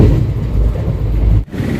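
Mumbai LTT–Kochuveli Garib Rath Express, an ICF-coach train, rolls into Kozhikode railway station with a loud, close, steady low rumble of wheels and running gear that dips briefly near the end.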